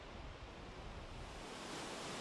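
A two-tier waterfall on Minnesota's North Shore plunges nearly 60 feet into a pool, heard as a steady, even broadband rush of falling water, soft and distant, with no voices.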